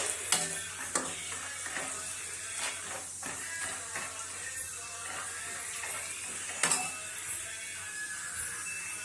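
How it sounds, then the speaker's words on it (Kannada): Chopped dried coconut frying in oil, a faint steady sizzle with occasional clinks and scrapes of a utensil against the pan. "ಇದ್ರೊಳಗ ಎಣ್ಣೆ ಒಳಗೆ ಹಾಕಿ ಸ್ವಲ್ಪ ಫ್ರೈ ಮಾಡ್ಬೇಕ್ರಿ"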